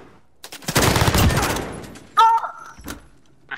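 Call of Duty Modern Warfare gunfire: a rapid, loud volley of shots lasts about a second and a half, then fades, followed by sharp metallic game clicks and scattered lighter shots.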